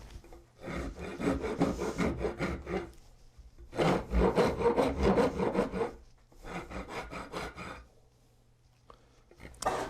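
A finer-tooth rasp shaping a wooden guitar neck, with three long bursts of loud, coarse filing strokes close up, separated by brief quiet gaps.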